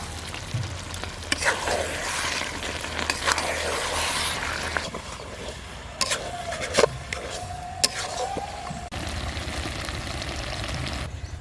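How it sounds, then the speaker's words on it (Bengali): Mutton fried and stirred in its own rendered fat in a pan for a village-style curry, with a steady oil sizzle and scraping stirs, close and moderately loud, with a few sharper clinks of the spoon against the pan. "মাংসটা ভালোভাবে কষিয়ে নিয়েছি, তেলও ছেড়ে দিয়েছে"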